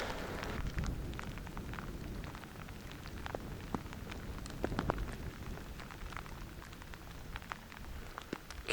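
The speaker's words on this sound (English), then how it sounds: "we've confirmed that it does actually rain in Southern California" Rain falls in Southern California along a backroads bicycle route, a steady patter with scattered sharper drips striking nearby surfaces, continuous and fairly close with no talking.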